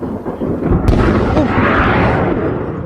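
Fireworks detonate in California neighborhoods: a loud, continuous roar of blasts and crackling booms, with one sharp report standing out near the start and a heavy rumble carrying through to the end.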